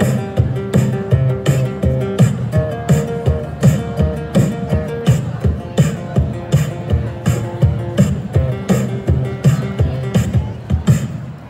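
A street performer beatboxes a song with his mouth for a holiday crowd outdoors, keeping a steady, punchy rhythm of kick and snare sounds over a bass line. The voice imitates a drum kit, loud and close throughout.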